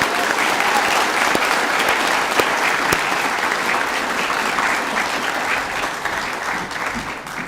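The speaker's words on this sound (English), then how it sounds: "A round of applause for these wonderful musicians" At a high school co-curricular prizegiving, the audience gives sustained, full applause for school musicians, a dense steady wash of clapping with a few sharper claps standing out and no talking.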